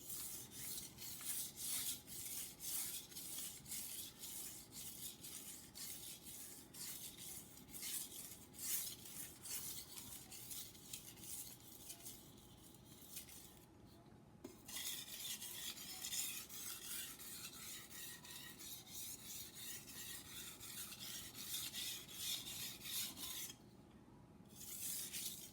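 A knife blade is drawn over a water stone with light pressure, giving a continuous soft rasping scrape in quick repeated strokes, with two brief pauses partway through.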